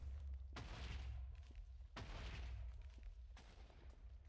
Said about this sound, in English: don't worry about that last explosion up there. There is water preventing the TNT from blowing everything up there.